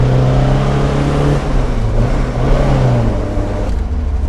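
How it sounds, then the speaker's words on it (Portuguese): A 1974 Alfa Romeo Spider Veloce with a 2-litre four-cylinder engine and twin Dellorto carburetors revving loudly up close, a throaty, steady drone rising and falling in pitch through several blips of the throttle. "A gente ouve aqui o som fantástico do motor."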